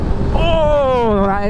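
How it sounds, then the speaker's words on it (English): A motorbike engine and exhaust on a mountain road between France and Spain roar close and loud under rushing wind, the pitch sliding down smoothly as the rider eases off. "This bike doesn't go like crazy, but it sounds like you're doing a million miles an hour."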